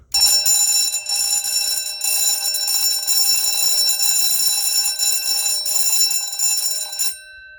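A Stromberg 6-inch electric alarm bell with a mechanism needing adjustment rings continuously and loudly for about seven seconds, a dense metallic clatter that stops abruptly.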